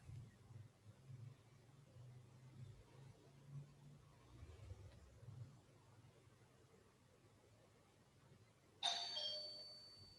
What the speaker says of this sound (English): I need to answer the doorbell.